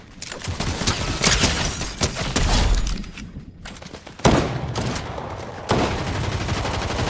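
Gunfire rattles in a Fortnite match: loud, rapid bursts of shots, with sharp fresh volleys striking partway through and later, close and dominant throughout.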